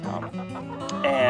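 Chickens on an urban school farm cluck and chatter close by in a short, busy burst, with overlapping calls and a sharper squawk near the end.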